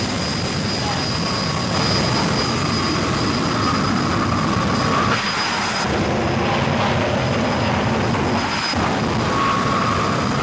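A jet-powered drag car's engine roars in a loud, continuous, broadband blast with a high whine on top, steady throughout with only brief dips.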